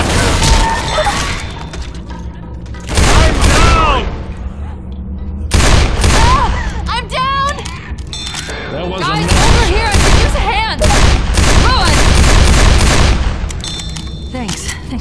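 Repeated bursts of gunfire ring out in Left 4 Dead 2, loud and close, with rapid volleys and single cracks stacked in clusters while characters shout over the shooting.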